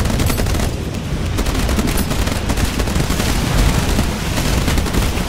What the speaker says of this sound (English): You need battery power to shoot guns.